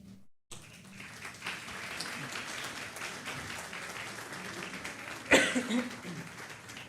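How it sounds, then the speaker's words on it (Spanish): Students clap at the opening of a diploma course in electoral law, a steady indoor round of applause that begins abruptly after a brief silence, with a cough and throat-clearing rising out of it near the end. "Esas personas que aplaudieron son mis alumnos"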